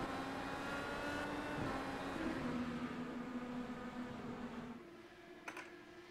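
IndyCar race cars in a racing video game roar off the green flag start at Sebring, a steady layered whine of engines rising and holding, then thinning as the pack pulls away.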